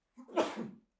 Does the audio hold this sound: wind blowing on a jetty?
no